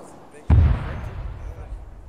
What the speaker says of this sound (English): Was that a 600 millimeter cannon?